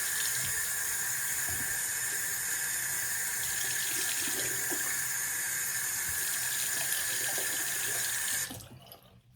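Bathroom tap running steadily into a sink to wet a washcloth, a loud continuous close-up stream that cuts off near the end.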